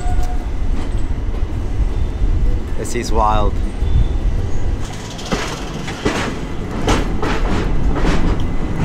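A passenger train between Delhi and Agra rumbles along the rails with a constant roar and rhythmic clatter, while a person speaks briefly over the noise.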